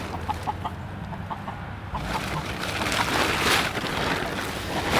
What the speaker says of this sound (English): It also came with an upset chicken.